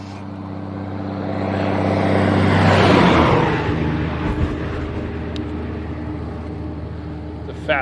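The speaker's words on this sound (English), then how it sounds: "It's a fast-moving truck." A fast-moving truck passes on a rural road among farmland, its roar swelling to a loud peak and fading again, heard from the roadside by a cyclist during a cross-country ride, with steady wind and road noise throughout.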